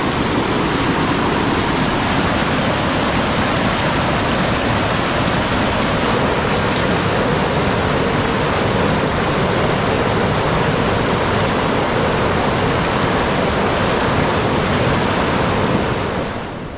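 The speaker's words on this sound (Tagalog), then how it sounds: "Umila na yung ulan mga kaprobinsya, pero patuloy pa rin yung paglaki ng tubig, oh." Rising floodwater after heavy rain surges over a concrete path, a loud, unbroken roaring rush close by that stays steady throughout and fades only slightly at the very end, with no voices.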